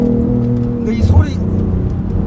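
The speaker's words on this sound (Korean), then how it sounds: "이 배기음이 조금 인위적인 스피커에서 나는 소리 같은 게 느껴지세요?" The three-cylinder engine of a BMW i8 sends a low, droning exhaust note from the cabin during laps at the Yeongjong Island track, with a brief swell of revs partway through, while people talk over it.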